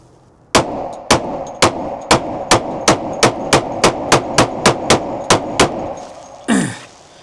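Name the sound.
gunshots from a Smith & Wesson M&P 10mm pistol, PPU ammo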